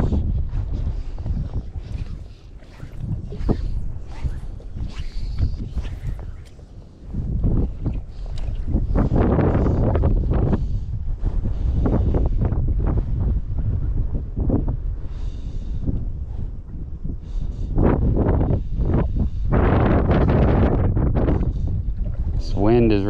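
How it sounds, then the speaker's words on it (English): Strong wind blows across salt water beside reeds while fly fishing for redfish, buffeting the microphone with a continuous, rough roar and surging gusts throughout, with no clear voices. "This wind is really bad, guys."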